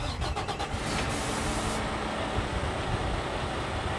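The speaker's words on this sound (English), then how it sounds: "Turn key and start the truck." A truck fitted with a hydrostatic remote control drive for rail work starts on the key: a brief burst of cranking, then a steady, loud engine running on its own.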